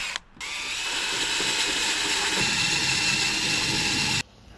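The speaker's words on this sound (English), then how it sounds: "first I'm gonna make a pilot hole, and then I'm gonna enlarge with this hole saw" A power drill with a hole saw bores through the steel roof of a Nissan Xterra, a loud continuous grinding whir running unbroken for about four seconds between brief pauses, close up with no talk.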